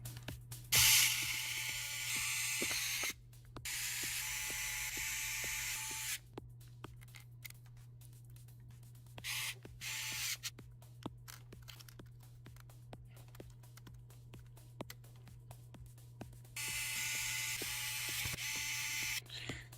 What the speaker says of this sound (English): Reinstall the 8 small screws that holds the motherboard.